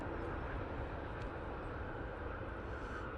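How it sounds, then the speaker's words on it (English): A Ryanair jet from Dublin roars steadily as it comes in to land at Manchester Airport, a broad continuous engine rumble heard from the ground with no voices. "Ryanair from Dublin, about to touch down."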